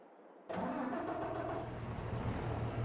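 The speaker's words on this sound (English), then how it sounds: "Fire the tractor, let it start warming up a bit." Tractor engine in a farming simulator starting up, a sudden catch after brief near-silence, then settling into a steady mid-pitched idle hum that stays loud and continuous.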